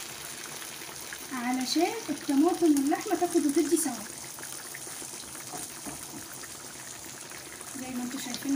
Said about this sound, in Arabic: نص كوباية مية كده